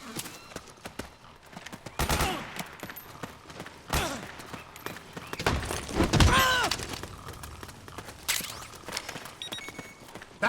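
Scattered sharp gunshots and bursts crack through a Metal Gear Solid 4 battle scene, mixed with clatter and impacts at mid distance, with no talk over them.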